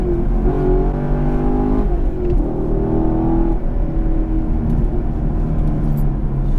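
A Chevrolet Camaro SS 1LE engine roars loudly and close while driving, rising and falling through gears with a sustained, throaty V8 rumble.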